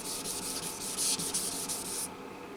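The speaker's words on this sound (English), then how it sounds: "I'm doing 2000 grit sandpaper with some soapy water." A 1997 Gibson 1960s Dove acoustic guitar is wet sanded with 2000 grit sandpaper and soapy water, giving a close, soft, rhythmic back-and-forth hissing rub that stops near the end.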